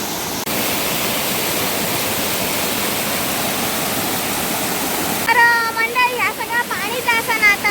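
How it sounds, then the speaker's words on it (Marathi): Continuous rushing roar of a small waterfall on a farm, close and loud, with a person speaking over the water noise near the end. "ह्यो बघा आमच्या पायऱ्यातलं धबधबो"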